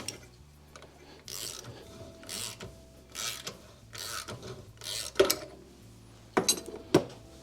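A press forcing the gear off the shaft of a vintage Autolite distributor in a workshop: a series of sharp metallic clicks and scraping bursts at irregular intervals, close, with quiet gaps between.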